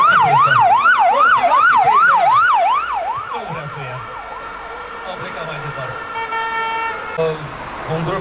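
A police siren wails loudly and close at a protest outside the Chamber of Deputies, a fast rising-falling yelp repeating steadily before easing into a steadier tone, with people talking and crowd noise underneath.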